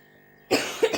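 A person who has been sick with a persistent cough since the previous night coughs twice, close by, in harsh bursts after a quiet start.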